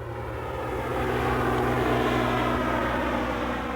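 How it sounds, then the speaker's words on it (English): Steady, loud engine drone of a small propeller plane banking over a grass airstrip near the Democratic Republic of Congo border, continuous and close with no talking. "when the plane banks to find the grass airstrip, we pass briefly over the border"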